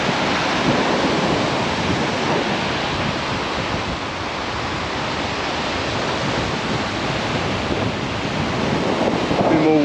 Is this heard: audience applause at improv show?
no